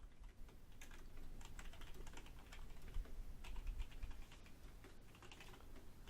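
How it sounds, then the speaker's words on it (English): Rapid clicking of fingers typing on a computer keyboard, with uneven bursts of keystrokes running steadily and close throughout, no voices. "Typing anything important?"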